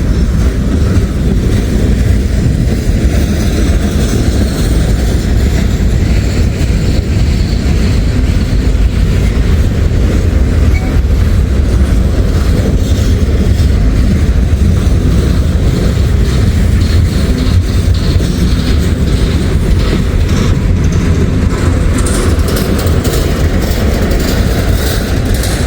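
A train passing on a railroad in fog in Kentucky, a loud, continuous low rumble with steady rolling noise and no break.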